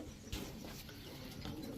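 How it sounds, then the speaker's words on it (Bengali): A pair of domestic pigeons, a fancy patterned breed on sale at a market, coos softly and fairly distantly against a continuous background hum, with a louder bump early on. "মাকড়া চোখের এক জোড়া কাজ করা কবুতর, লাল মাকড়া নীলা কাজ করা"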